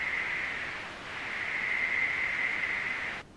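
A low-pass filtered white noise riser made in FL Studio gives a steady, bright hiss with a resonant, whistling edge that swells slightly, holds, then cuts off abruptly.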